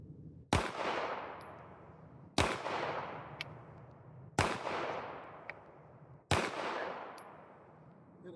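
Four evenly spaced gunshots ring out over about eight seconds, each a sharp loud crack decaying into a short echo, with a faint small click from the trigger reset following each shot.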